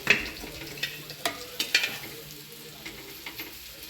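Ingredients roasting and being stirred in a pan over a wood-fired chulha stove for a village chicken masala, light sizzling with intermittent scraping stirs, close and moderately quiet, no talk.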